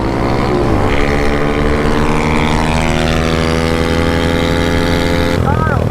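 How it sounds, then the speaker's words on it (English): A pit bike engine revs hard during an indoor burnout in an abandoned house. It makes a loud, steady, buzzing drone that shifts in pitch as the throttle changes, with a sharp rising whine near the end. "So much for a pit bike race, more like a pit bike burnout session."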